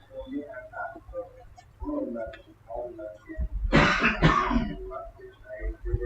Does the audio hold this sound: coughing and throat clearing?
yes